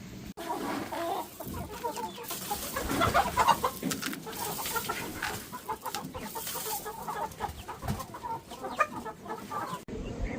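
Chickens cluck and murmur continuously nearby, with occasional louder squawks over a soft outdoor background.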